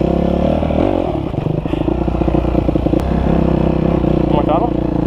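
A dirt bike engine revs loud and close while the rider attempts a log jump, with rising throttle bursts, mechanical clatter and a scrape, plus some voice in the mix.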